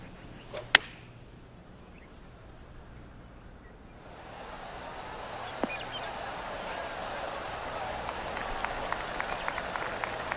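Crowd applause from the PGA 2K23 golf video game, a light spread of clapping that swells after a sharp crack and continues steadily at moderate volume, with no talking over it.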